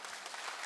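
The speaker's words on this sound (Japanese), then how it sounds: "皆様が大きな拍手を送ってくださいました" An audience claps at a singer's 45th anniversary kayō concert stage, a brief, even wash of many hands from a large hall.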